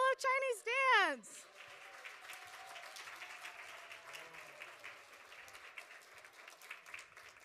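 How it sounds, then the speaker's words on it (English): Children's audience in a rotunda applauds to welcome a Chinese dance group; a loud voice speaks first, then sustained, moderately distant clapping and crowd noise carry on. "clap as hard as we can"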